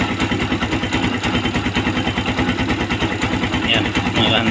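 A Kawasaki Barako II 175 motorcycle engine idles after an oil filter O-ring fix, a close, steady, rapid thumping pulse that stays even throughout.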